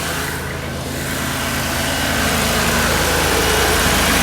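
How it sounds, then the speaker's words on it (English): Small Kohler engine on a Vanair Air n Arc compressor, mounted on a 2014 Ford F550 service truck, running at a loud, steady idle with a constant broadband drone that grows slightly in volume after starting. "I got it cranked over."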